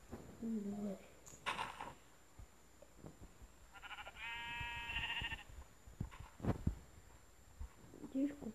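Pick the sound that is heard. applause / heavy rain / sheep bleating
sheep bleating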